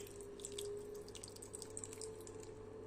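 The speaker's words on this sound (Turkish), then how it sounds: "Şu an tam bir su bardağı su ilave ettim." Water is poured into a glass jar while an orange dish is made, a faint, steady trickle with light dripping splashes throughout, heard alone at close range.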